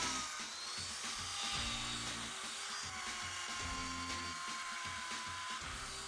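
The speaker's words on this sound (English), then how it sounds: "So this is what we call a burr bit. This is attached to a Dremel" A Dremel rotary tool fitted with a burr bit carves detail into an ice sculpture, giving a steady high-pitched whine with rough grinding texture that varies as the bit bites into the ice, close and continuous throughout.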